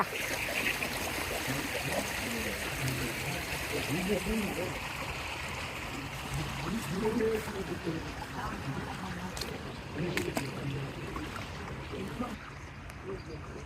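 Steady rushing of a waterfall-fed stream flowing over stones fills the scene, with voices talking faintly in the background.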